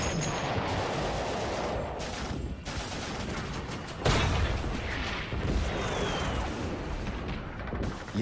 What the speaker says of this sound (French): En haut, les Turcs leur tirent dessus.